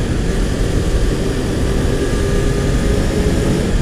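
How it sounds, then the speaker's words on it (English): A Kawasaki Ninja 300 motorcycle engine runs steadily while riding, a loud continuous drone mixed with wind rush, close and unbroken, with no talking. "I am riding a Kawasaki Ninja 300"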